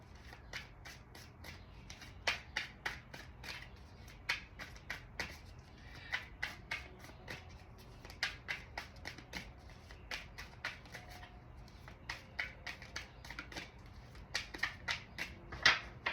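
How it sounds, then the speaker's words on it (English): A deck of tarot cards being shuffled and cut by hand, with rapid crisp riffling and snapping bursts that come in quick uneven flurries, close and fairly quiet, with no talking. "I'm gonna cut the deck."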